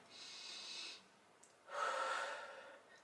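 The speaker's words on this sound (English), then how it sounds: "taking deep breaths in" Two slow, deep breaths close by, a long airy inhale followed after a pause by a louder, fuller breath, with no talking.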